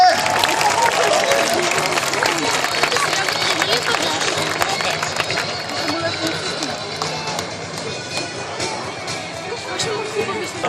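Crowd clapping and cheering outdoors at the Sofia air show, a broad wash of applause that gradually thins, with some voices mixed in.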